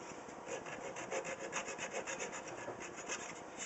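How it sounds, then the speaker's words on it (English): A flush cutting saw trimming plastic dots pushed into holes on a cigar box guitar neck, a rapid close rasping of steady back-and-forth strokes, alone without talk. "Take a flush cutting saw"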